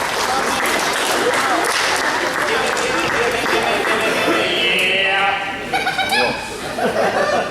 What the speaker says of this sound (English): give him a round of applause for helping out